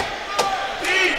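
A large crowd at a Skyline Conference semifinal college basketball game chants together in a loud, sustained roar that fills the gym, with a sharper shout rising near the middle.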